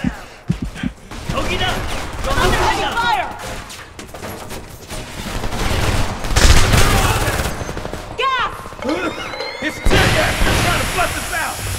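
Heavy automatic gunfire and bursts rattle through a battle in the video game Homefront, with dense volleys, crashes and occasional louder blasts, while voices shout over the chaos.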